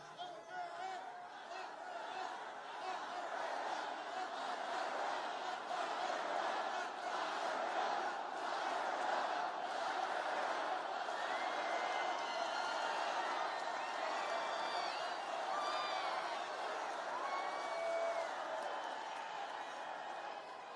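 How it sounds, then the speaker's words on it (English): Large political rally crowd in Arizona roaring and cheering continuously, a dense wash of voices heard from a distance, steady and sustained with no single speaker standing out. "You can actually tell a crowd by the sound."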